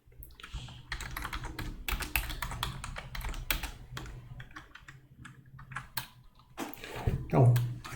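Messages typed on a computer keyboard while a command-line prompt is open, quick irregular key clicks and taps, close and fairly quiet, with bursts of faster typing and brief pauses.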